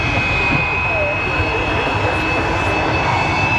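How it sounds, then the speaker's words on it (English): Jet-powered dragster engine at the Oshkosh AirVenture airshow, a loud continuous roaring whine with a steady high tone and heavy rumble, sustained throughout, with crowd or announcer noise blended in. "the smoke thunder jet-powered dragsters will light up the nighttime sky"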